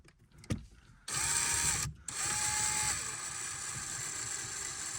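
A 90-degree driver gently runs a screw into place while fitting a triple gauge in a Nissan 370Z, a close whirring buzz that starts, pauses briefly, then runs on in longer bursts.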